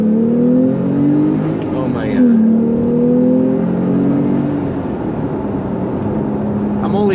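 A Porsche 911 Carrera S 991.2 with an ECU tune revs up to about 6,000 RPM from inside the cabin, its engine note climbing, dropping and climbing again in loud, smooth sweeps.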